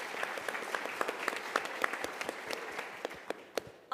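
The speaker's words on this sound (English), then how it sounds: "Let's give them a round of applause." Audience at a food-waste solutions showcase gives presenters a round of applause, a steady crowd of many hands clapping at moderate distance that tapers slightly near the end.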